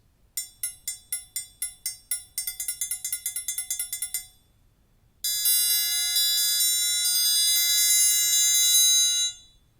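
A triangle played with fingers muting it for a dry, short sound: a steady run of crisp metallic strikes speeding into quicker gallop-like repeats, a brief pause, then a long ringing open tone that sustains and cuts off.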